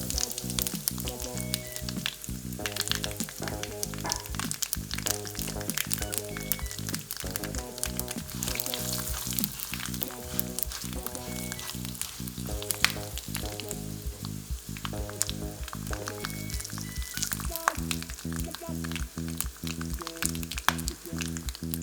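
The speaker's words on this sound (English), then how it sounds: "While the spices sizzles, meanwhile we are going to crush some garlic." Whole spices sizzle and crackle in smoking-hot oil for a dhaba-style chicken, a steady dense frying hiss with bright pops and spits throughout, close and alone with no voices.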